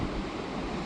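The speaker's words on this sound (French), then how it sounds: "J'adore l'océan là, regardez-moi ça, les vagues." Ocean waves on the Portuguese coast, a soft diffuse wash of surf heard faintly from a distance in a brief continuous moment.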